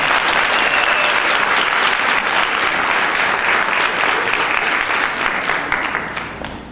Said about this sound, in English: Let's have a big round of applause for Mr.